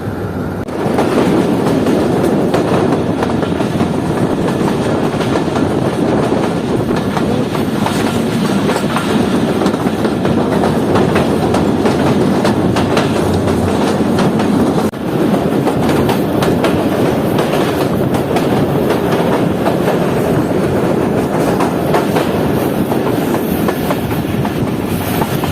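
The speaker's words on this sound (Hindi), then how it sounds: "ट्रेन हमारी अप्रोच कर रही है उनरपुर रेलवे स्टेशन पर" The Mohen Jo Daro passenger train runs steadily between Karachi and Sehwan, heard from on board as a loud, continuous rumble with rhythmic clickety-clack of wheels over rail joints and no talking.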